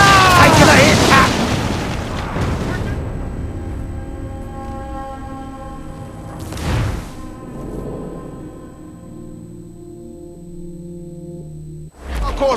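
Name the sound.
ship cannon fire in the video game Assassin's Creed IV Black Flag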